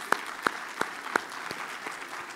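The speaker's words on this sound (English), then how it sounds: "could we start off with you just applauding yourselves?" Conference attendees at the 2017 National Arts Marketing Project opening keynote applaud themselves: a few loud, close, evenly spaced claps stand out over lighter scattered clapping from the audience, fading toward the end.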